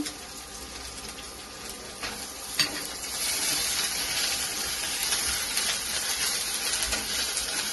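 Chicken pieces fry in a pan with chopped garlic, ginger and kasuri methi, giving a steady close sizzle with stirring scrapes that grows a little louder partway through; no one speaks.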